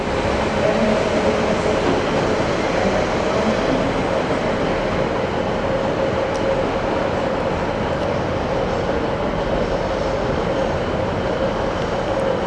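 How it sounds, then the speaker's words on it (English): A Transport for Wales class 197 diesel multiple unit pulls out of Chester station, giving a steady low rumble and engine drone that holds even and fairly close throughout. "Off goes 197012 on B1156 Transport for Rail service to Crewe"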